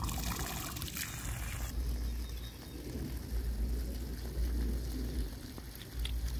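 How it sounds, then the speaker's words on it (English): Water pours and splashes steadily from an RV hose, a continuous rushing flow that stays fairly loud and close throughout with no talking. "Water's coming out. I'm just gonna let that flush a little bit."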